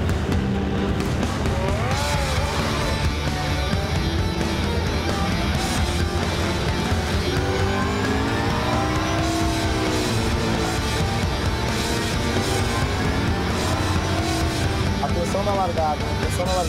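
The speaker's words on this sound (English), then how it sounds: "Cars coming into final corner" GT race cars in a Blancpain Sprint Series race at the Algarve circuit roar continuously through the final corner toward the start, with engines revving and pitch sweeping up and down, loud and dense, while a commentator talks over them.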